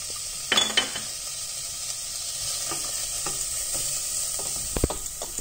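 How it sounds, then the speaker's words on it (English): Onion gently frying in oil in a pan for a chicken and potato curry soup gives a steady soft sizzle, with a few close clinks and scrapes of a spoon stirring against the pot. "I am going to gently fry my onion"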